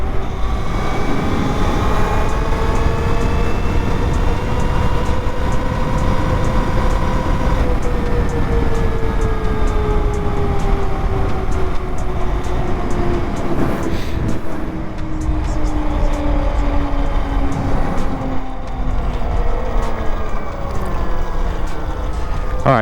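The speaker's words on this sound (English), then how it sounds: "this is my first official ride on the all-new Talaria Stinger, whatever it is, the MX4 edition" A Talaria Sting R MX4 electric dirt bike being ridden, a continuous loud whine with rising and falling motor tones over heavy wind rush throughout.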